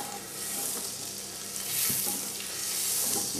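Oil and butter heating together in a pan for pork give off a close, continuous sizzling hiss that swells slightly midway, with no voices.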